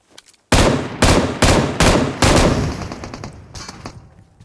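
Rapid bursts of gunfire shoot out a vehicle's tyres in the PUBG Mobile video game, about half a dozen loud, close shots in quick succession, then a trailing echo and fading reverberation.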